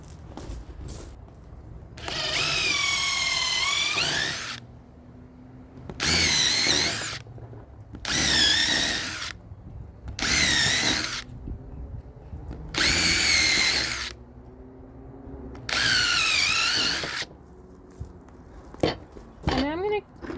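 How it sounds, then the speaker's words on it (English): A power drill whines in six short bursts, pre-drilling holes in wood for a raised garden bed, with brief pauses between holes and faint clicks afterward. "So I'm going to pre-drill all these holes."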